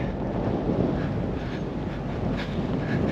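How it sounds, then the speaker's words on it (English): Steady wind roars and buffets a microphone on an Australian rules football field in Japan, a constant low rumble with no voices. "So windy, exhausted"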